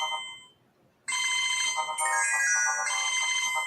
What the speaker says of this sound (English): this is Lisa D's phone. Her mom trying to call her